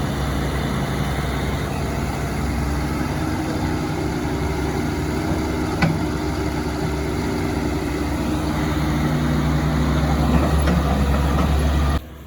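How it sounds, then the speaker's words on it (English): An excavator engine runs during pond expansion digging, a loud continuous low drone held close throughout with a single faint clank partway through, no talking. "Hudson hopped up in the excavator and spun around a little bit, made a couple digs, lifted the bucket a couple times"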